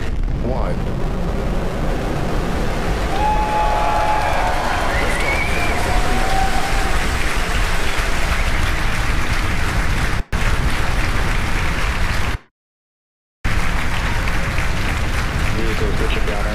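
A SpaceX Falcon 9 lifts off carrying NASA's GRACE Follow-On satellites, a sustained crackling, rumbling roar that fills the broadcast, briefly cut by a gap near the end, with commentary voices faintly heard.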